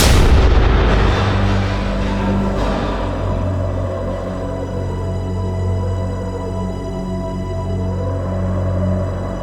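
Regiments fire volleys of gunfire, a loud booming report at the start that rolls away into a long, heavy rumbling echo and sustained low reverberation.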